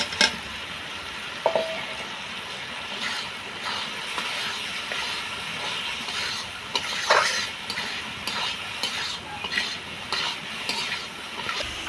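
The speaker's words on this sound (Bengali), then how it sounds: "এবার আমি ভেজে রাখা আলু দিয়ে ভালো করে মশলাটাকে কষিয়ে নেব।" Fried potatoes being sautéed in spice paste in a pan, steady sizzling with repeated scraping and clinking of a spatula against the metal, close and without voices.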